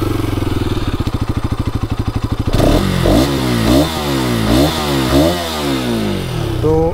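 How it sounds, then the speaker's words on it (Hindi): A 2023 Bajaj Pulsar RS200, a 200cc sport motorcycle, idles close by with a fast, even exhaust pulse, then revs hard in repeated sharp bursts that climb and fall back, loud and up close. "इस बाइक का एग्जॉस्ट नोट सुन ही सकते हो"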